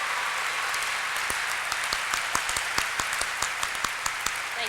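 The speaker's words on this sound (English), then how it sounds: "Let's give a round of applause to these students for their untiring dedication." Graduation ceremony audience applauding for the senior class, a steady dense wash of clapping from a large crowd with sharper individual claps popping out near the front, sustained throughout.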